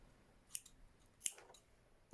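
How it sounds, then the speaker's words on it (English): Scissors snip through crochet yarn, two or three short, quiet cuts spaced about a second apart in an otherwise still room. "Now cut the yarn"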